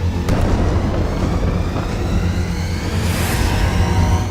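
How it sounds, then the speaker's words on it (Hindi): Loud, sustained low rumble with crackling bursts from the third of three explosions in a Hezbollah strike on Israel, like a large blast roaring on without a break. "तीसरा धमाका"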